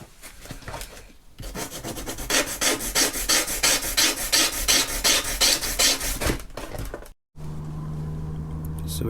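A plastic interior car trim panel being trimmed of excess material, heard as a steady, close rasping and rubbing run of rhythmic strokes for several seconds, then stopping before a quieter low hum.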